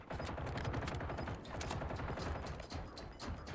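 Burst-fire gunshots in the video game Warzone, a rapid, loud and nearly continuous string of sharp cracks in quick clusters, with brief dips between bursts.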